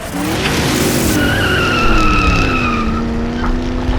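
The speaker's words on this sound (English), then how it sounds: "a car chase through an abandoned, ruined city, the pedal down hard as you speed towards your goal, overtaking your rival." A car speeding on a chase through an abandoned, ruined city lets out a loud, sustained tire skid and squeal over a roaring engine, close and continuous for several seconds.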